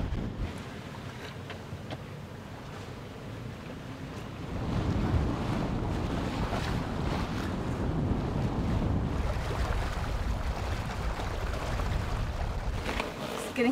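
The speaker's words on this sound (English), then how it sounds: "The wind picked up too." Strong wind roars over a sailboat out on open water, blowing at around 18 to 20 knots in cooling weather. Gusts buffet the microphone and waves wash beneath, a steady heavy rush that grows louder partway through, with no voices.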